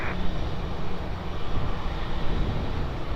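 Airliner taking off on runway 20 at Lisbon Airport, a steady broadband engine roar held at constant loudness throughout, fairly close, with no talk over it.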